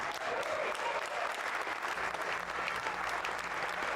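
Applause from a crowd for a Volvo, steady dense clapping lasting throughout, moderately distant and fairly quiet.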